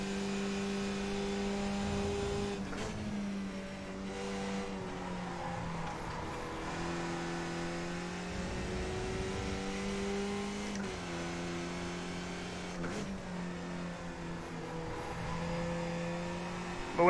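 A race car engine from the iRacing sim drones steadily for the whole stretch, its pitch climbing and stepping down through several gear changes. The sound is loud and continuous, with no talking.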